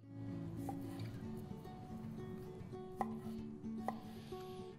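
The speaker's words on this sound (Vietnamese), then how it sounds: "Cuối cùng, chúng ta thái thành các miếng nhỏ." A knife chopping chicken into small pieces for sweet and sour chicken, steady close cutting taps on a board with a few sharper knocks, alone with no talk.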